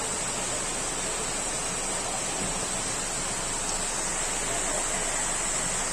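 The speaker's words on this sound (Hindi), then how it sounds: "वाटरफॉल हमको देखने के लिए मिला है रास्ते में" A roadside waterfall on a rain-soaked ghat roars as a steady, dense wash of rushing water, loud and unbroken throughout, with no voices over it.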